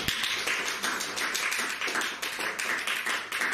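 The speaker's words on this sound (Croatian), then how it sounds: "Pozdravite ih pljeskom." An audience claps in applause at a literary presentation event, a brisk, dense patter of many hands that carries on steadily for a few seconds.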